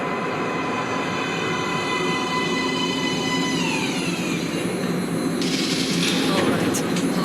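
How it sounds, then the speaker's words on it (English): A metro train pulls into an underground platform in the video game Metro Last Light, a loud steady rumble with a rising whine and squealing wheels that builds toward the end, heard alone without talk. "Train coming in."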